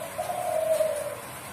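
A spotted dove (derkuku) in a bird-song contest gives a single clear, close coo, a smooth tonal call lasting about a second, heard alone without talk.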